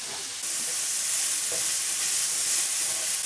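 Loud, close sizzling of vegetables stir-frying in hot oil for a Chinese pork stir fry, with a rushing crackle that swells as spring onion is added and stirred.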